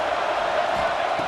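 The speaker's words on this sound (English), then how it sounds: "the crowd coming to life here trying to help this defense down in the red zone" A stadium crowd in a college football video game roars in a dense, continuous wash of cheering, loud and steady over the short moment.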